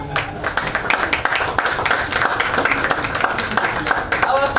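Applause and clapping from a live audience at a TV serial launch event, a steady dense wash of hands under a host's voice.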